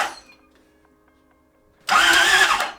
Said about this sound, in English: So in theory, right now if I turn the key, this motor should turn over.